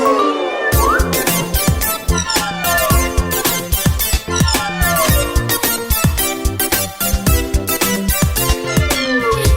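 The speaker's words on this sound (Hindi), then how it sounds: "उस बिल्ली को देखो जरा, कैसे हमें घूर घूर कर देख रही है।" A cartoon cat meows repeatedly over a bouncy children's Hindi rhyme backing track, with the music loud and rhythmic throughout.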